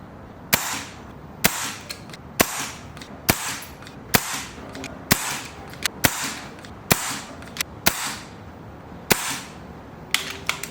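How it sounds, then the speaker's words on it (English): A high-power tuned BRK Ghost air rifle firing a string of test shots with 15-grain pellets, about eleven sharp, loud cracks roughly a second apart, each with a brief ringing tail, no talking. "Just gonna shoot a couple of shots, 4 or 5, just see what the speed is"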